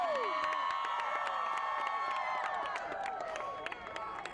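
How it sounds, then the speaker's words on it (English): A large outdoor crowd at the Astros championship parade in downtown Houston cheers and whoops loudly for Alvarez, a dense roar with scattered shouts and whistles that fades slightly toward the end. "Can we get a cheer for the Alvarez?"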